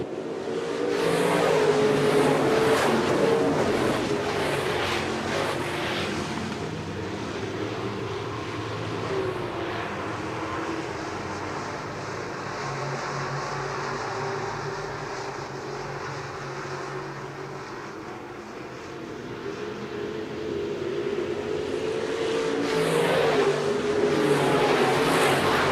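Sportmod and modified race cars roar around Shelby County Speedway, a continuous loud engine drone that swells as cars pass close, fades slightly mid-way, then builds again, with no talk.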